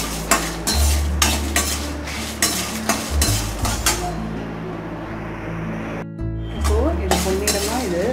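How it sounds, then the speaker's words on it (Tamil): Spices being dry-roasted in a pan until golden for bisibelebath, with steady stirring and scraping of a spoon against the pan, light clinks, and a soft sizzle running continuously at close range. "இது எல்லாத்தையும் இப்போது நல்லா வறுத்துக்கலாம். கொஞ்சம் பொன்னிறமாக வறுத்துக்கலாம்."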